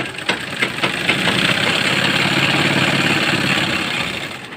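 A sewing machine runs steadily while stitching the side seam of a boat neck kurti, its motor giving a close, continuous rhythmic whir that builds at the start and holds through to the end.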